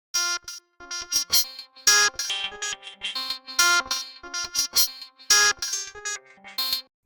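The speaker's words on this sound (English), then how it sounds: "Then I added Shaper Box, and this is the preset I used, the Divine Wiggle Worms." Synth plucks run through the Shaper Box Divine Wiggle Worms preset for a hard trap beat: choppy, stuttering bursts rapidly gated and rhythmically sliced, loud and alone with no talking.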